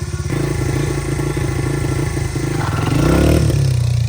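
Motorcycle engine loud and close, chugging and bogging down as it slows at low speed, with a steady rough rumble and a brief rise in revs near the end.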